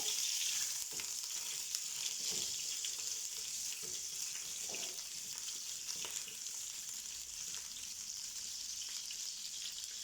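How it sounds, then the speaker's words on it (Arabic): Soft, continuous sizzling as ingredients are lightly sautéed with garlic in a pan, with occasional stirring scrapes under the even frying hiss. "راح احمسه ويا الثوم بالشكل هذا، مجرد حمسه خفيفه"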